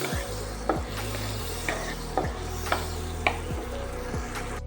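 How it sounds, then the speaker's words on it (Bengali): Whole cardamom, cinnamon and cloves fry gently in oil with a soft steady sizzle, broken by six or seven regular scraping strokes of a spoon against the pan, close and unvoiced. "গোটা গরম মশলা তার মধ্যে আছে এলাচ দারচিনি আর লবঙ্গ দিয়ে দিলাম দিয়ে হালকা একটু ফ্রাই করে দেবো"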